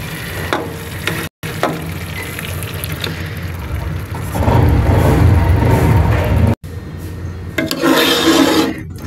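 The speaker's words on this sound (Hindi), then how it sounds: "मसाला बहुत अच्छा सा भुन गया है, इसमें घी अलग हो रहा है और अब इस स्टेज पर हम इसमें पालक शामिल कर देंगे" Spinach dropped into onion-tomato masala frying in ghee for egg palak, giving a loud, close sizzle with stirring and scraping that swells as the leaves hit the hot pan, with brief gaps in between.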